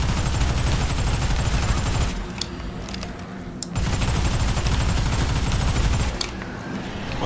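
A snowball gun fires in the zombie shooter video game Hellbreach: Vegas, with rapid, continuous automatic shots rattling loudly for most of the span, broken by a brief lull before the volley resumes.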